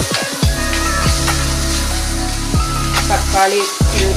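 Loud, steady sizzling of fish frying in hot oil with onion and tomato for a fish curry, with stirring scrapes and brief pauses near the end.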